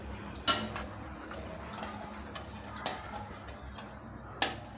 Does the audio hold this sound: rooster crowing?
no